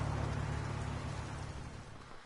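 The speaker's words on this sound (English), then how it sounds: "Rain!" Steady rain pours in the video game Kuro No Kiseki, a dense continuous hiss with a low steady hum beneath it, loud and unbroken for a couple of seconds before a soft bump at the end.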